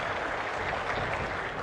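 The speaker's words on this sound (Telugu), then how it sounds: "గట్టిగా చప్పట్లు కొట్టి చేసిన దానికి అభినందిద్దాం" A room full of officials gives loud applause, dense continuous clapping from many hands, close and steady for the whole short stretch with no talk over it.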